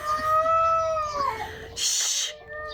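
Cats fighting, yowling and caterwauling in drawn-out, wavering cries, then a sudden harsh hissing burst, close by with no talking.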